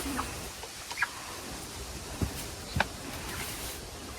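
Soft, scattered hen clucks, a few brief calls spread across a quiet background with faint rustling.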